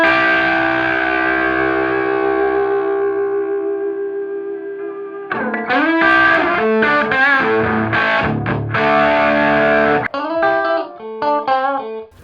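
An overdriven electric guitar runs through a Universal Audio Ox Box. A long, gritty sustained chord fades out, then choppy distorted riffs and bends play loud and close without any talking.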